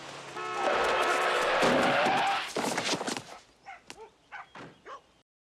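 A car brakes hard and skids, a loud sustained screech and rumble that lasts about two seconds, followed by several short, sharp barks from a dog.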